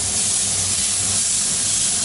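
Elk steak sizzles on a grill in a steady, loud, continuous hiss that stays even throughout, with no talking.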